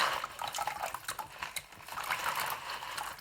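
Dried peas for pea and ham soup pour into a pot with a scattered, rattling patter, a dense spill of small hard pellets rising and falling over a few seconds, close and fairly soft.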